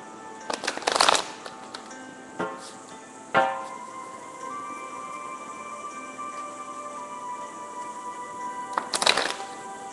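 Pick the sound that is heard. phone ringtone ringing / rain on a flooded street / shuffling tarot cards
shuffling tarot cards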